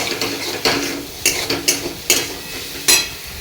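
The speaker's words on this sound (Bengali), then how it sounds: "আলু ভাজা চাপিয়ে দিয়েছি" Potatoes fry in a pan as a spoon stirs them, with six or so sharp scraping knocks at an uneven pace over a faint, soft sizzle, and no voices.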